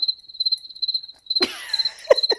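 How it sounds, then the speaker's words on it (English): A cricket sound effect gives steady, rapid high chirps in repeating bursts, clear and alone, interrupted midway by a few soft clicks and thumps before the chirping resumes. "I'll put some crickets."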